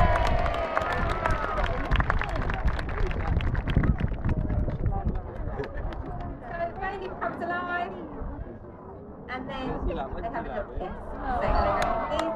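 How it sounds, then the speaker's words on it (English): A crowd cheering and clapping at a zoo animal show, a busy, lively noise with a voice talking over it and a fresh swell of cheers toward the end. "Have to have a big cheer for this one"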